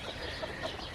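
A rooster clucks briefly in a backyard chicken area, with a couple of soft, short clucks over a steady outdoor background hiss.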